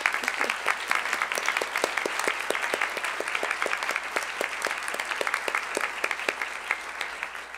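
A conference audience gives steady, dense applause to members of a women's fellowship program, loud and continuous throughout with no voices over it.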